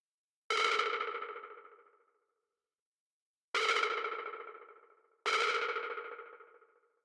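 Three bursts of harsh, distorted synth tone, each hitting loud and then fading away over a second or two, with short silent gaps between.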